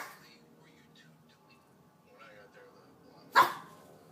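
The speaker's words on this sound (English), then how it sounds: "Her second bark is a level 2 bark. And it's a little bit louder than the level 1 and sounds a little bit more panicky." A pet dog gives a single sharp, louder, panicky bark near the end, rising abruptly out of a quiet room after faint soft noises, standing alone without talk over it.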